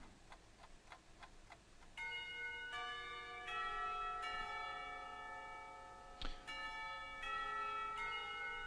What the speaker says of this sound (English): The lunch bell rings